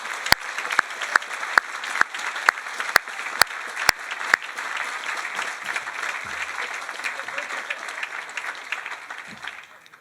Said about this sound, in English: So I'd like to give a round of applause to the Seacoast Mission staff.